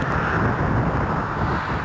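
Steady wind buffeting a microphone outdoors on a bike ride along a country lane by a flooded valley, a continuous low rumble filling the whole clip with no voices.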